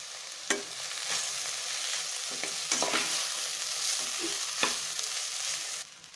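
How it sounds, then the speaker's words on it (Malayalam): Beaten rice flakes and onions stirred in a hot frying pan for coconut aval upma, with repeated close scraping strokes over a steady sizzle and no voices. "ഈ തയ്യാറാക്കി വെച്ചിരിക്കുന്ന അവലിൻ്റെ കൂട്ടും കൂടെ ഇതിനകത്തിട്ട് നന്നായിട്ട് ഇളക്കിയെടുക്കാം"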